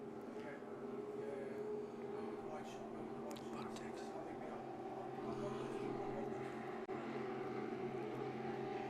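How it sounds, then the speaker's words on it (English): A racing powerboat runs past at the Cocoa Beach offshore races, its engine a steady distant drone heard behind continuous commentary. "you can hear the Predator boat go by"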